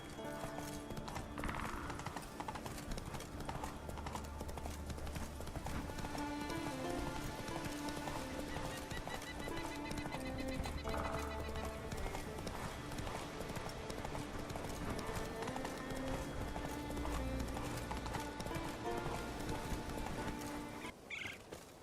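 Steady clip-clop of a horse's hooves as Geralt's horse Roach walks in The Witcher 3, continuous and fairly close under game ambience with rain, a brief whinny and music.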